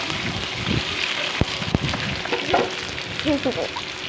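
Pointed gourd (potol) pieces fry in oil until red and crisp, giving a steady soft sizzle and crackle with a few sharp pops and clatters from stirring.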